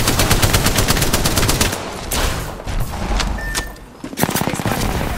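Rapid bursts of automatic gunfire from a battle-royale video game, loud and close, with dense rattling volleys, a short pause and a sharper single crack, then more firing.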